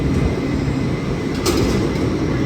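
A Metro-North commuter train rumbles steadily and loud at a Grand Central platform: a continuous low roar with a brief hiss partway through, and no talk.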